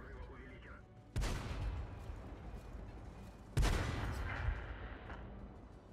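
Two heavy gunshot blasts from a video game, each a sudden loud boom with a long rumbling decay, a couple of seconds apart, with faint background sounds between them.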